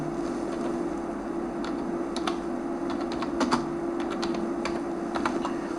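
Keyboard typing while entering details into an online exam application form: steady bursts of clicky keystrokes over a constant background hum, fairly close, no talking.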